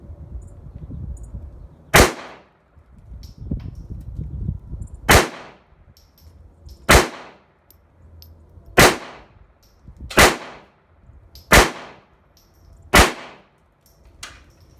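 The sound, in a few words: gunshots while test-firing pistol with green laser sight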